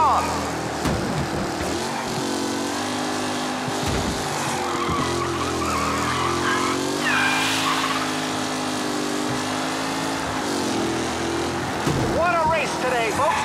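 Race cars speed past in the Mafia Definitive Edition video game, with loud engines, skidding and squealing tires. A commentator's voice talks over the cars.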